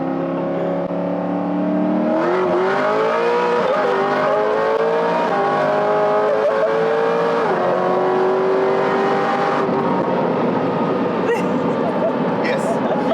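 A GPI SS3 Camaro running on methanol drives on a road test, its loud engine droning and revving steadily up and down through the gears, close and continuous with no pauses.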